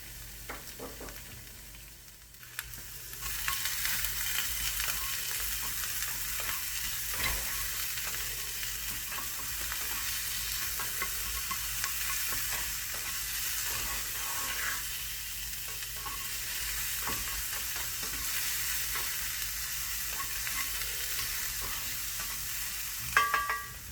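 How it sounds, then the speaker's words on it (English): Onions frying in a little oil in a pan, a steady broadband sizzle that starts after a brief quiet opening and continues evenly, with occasional stirring scrapes and no talking. "I have a little bit of oil, and I'm going to add the other part of my onions"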